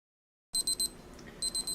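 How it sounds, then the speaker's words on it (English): A kitchen timer goes off during steam sterilization, a close series of short high electronic beeps in two quick bursts of three or four with a brief gap, ringing out alone after a moment of silence. "That's my timer saying this has been sterilizing for about a half hour."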